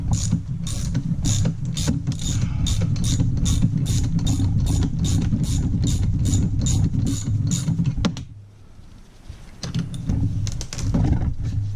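A ratchet spins off 14 mm brake bolts on a 1999 Ford F-350, giving a steady rapid clicking run that is loud and close, then a brief pause and a second burst of ratcheting.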